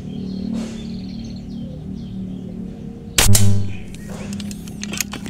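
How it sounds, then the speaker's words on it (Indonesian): A single sharp rifle shot goes off midway through outdoor accuracy testing, a brief loud crack against a quiet background with birds chirping faintly before and after. "Oke, tembakan keenam."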